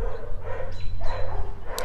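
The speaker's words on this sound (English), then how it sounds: "dogs are barking" Dogs bark repeatedly in short bursts a little way off, with some yipping over a steady low background hum.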